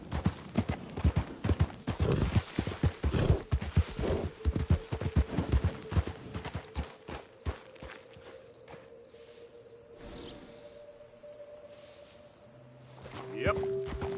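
Horse hooves clip-clop in the Red Dead Redemption 2 video game as quick, dense strikes that slow and thin out, then give way to softer ambience. A voice speaks briefly.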